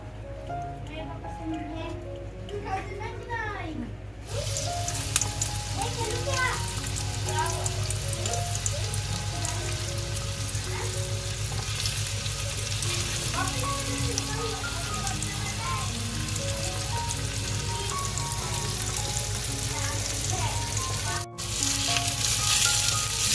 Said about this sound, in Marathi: आपण पॅन गरम करायला ठेवलाय त्याच्यामध्ये तेल सुद्धा टाकलंय फ्राय करण्यासाठी